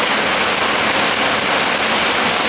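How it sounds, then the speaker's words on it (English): Heavy rain falling hard outdoors, a dense, even wash of hiss that stays constant and close throughout. "It's raining pretty hard right now."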